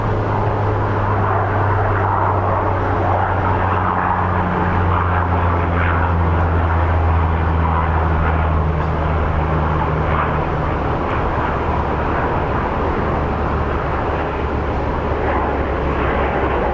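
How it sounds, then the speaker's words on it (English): A fixed-wing airplane lands at Phoenix Sky Harbor International Airport, its engine drone loud and close with a steady low hum and broad rushing noise that persists throughout, and no voices. "There's a plane landing."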